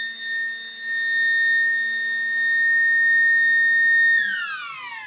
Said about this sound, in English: I wonder how long that siren was going to last for